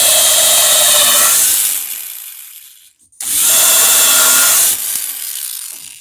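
A power drill whines loudly as it bores into a hard oak boat frame, stops briefly, then grinds in again for a second long burst.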